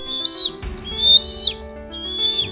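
A bald eagle giving three high, thin whistling calls, each sliding down at its end, loud and close with short gaps between them and a brief thump after the first call.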